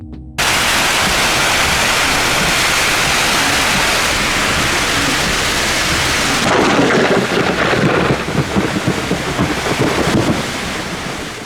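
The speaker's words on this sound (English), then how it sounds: "we got hit by strong winds and blinding rain" Heavy thunderstorm rain and gusting wind roar steadily against a close microphone, swelling into a harsher, louder downpour midway through.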